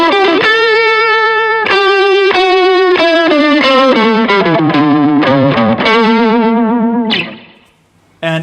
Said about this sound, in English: We can use it with the Tube Screamer to play minimally but sound interesting.